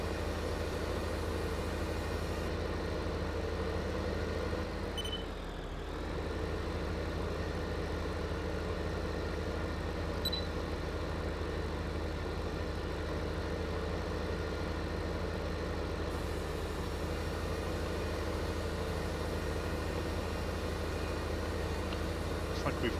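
Farming Simulator 15 in-game default tractor engine idling steadily, a constant low droning hum that holds level through the whole stretch with only a brief dip partway.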